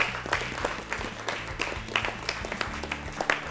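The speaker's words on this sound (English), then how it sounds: "Let's clap for him." An audience at a quiz prize ceremony claps for several seconds, a dense patter of many hands at moderate volume without talk.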